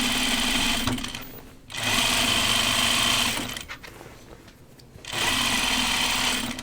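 A sewing machine stitches a facing down on pajama bottoms, running in fast, steady bursts with two short pauses between them, heard close.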